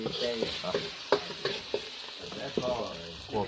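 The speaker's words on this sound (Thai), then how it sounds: "คั่วพริกเกครับคั่วพริกเกก่อนครับ" Chili paste roasting in a pan gives a soft sizzle broken by repeated scraping and knocking stir strokes at an uneven rhythm, close and fairly quiet, with no one speaking.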